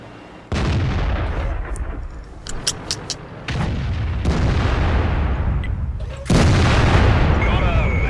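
Tank cannon fire in the video game World of Tanks, from an FV215b: three heavy, loud booms, each followed by a sustained rumbling roar, spread across the clip.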